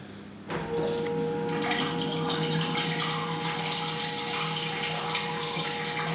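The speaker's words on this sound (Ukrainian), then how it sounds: "Потік води я бачу великий, кришку підіймає." Water rushes steadily through the pipes of a hydroponic growing system, starting abruptly and then flowing loud and continuous with a faint pump hum beneath.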